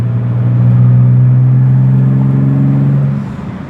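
A BMW E36 engine pulls hard under acceleration while driving on the road. A loud, rising droning roar holds strong for about three seconds, then eases off. No one speaks.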